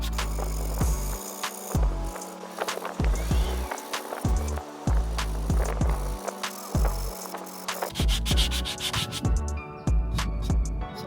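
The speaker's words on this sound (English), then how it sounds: "I'm going to go ahead and tackle this side real quick, starting with the 60 grit first, just to really get that layer off" Coarse 60-grit sandpaper is scrubbed over a skate ramp to strip sticker residue, giving loud, rhythmic back-and-forth rasping strokes with short pauses between passes, close up and with no voices.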